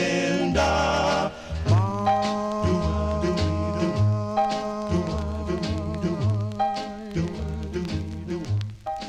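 Closing bars of the 1956 doo-wop record on the Dawn label, with harmonised vocals over a rhythmic bass and backing band, played clearly as vinyl.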